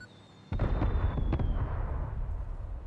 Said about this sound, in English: We blew it up.